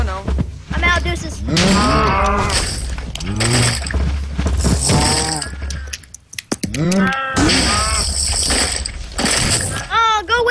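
Minecraft cows moo loudly and repeatedly in game, with bursts of gear-like clicking between calls, all overlapping lively talk from players.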